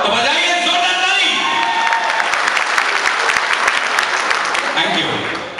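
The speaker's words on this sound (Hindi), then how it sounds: "बजाइए जोरदार ताली" A live comedy audience breaks into loud, sustained applause and some cheering, a dense clapping that swells and then slowly tapers off at the end.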